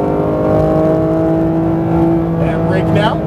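A Porsche 991 GT3 RS accelerates hard at full throttle on a track, its engine note a steady, loud, rising drone heard from inside the car, with a voice speaking over it.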